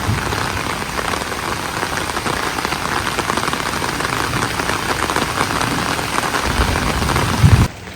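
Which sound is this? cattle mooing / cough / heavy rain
heavy rain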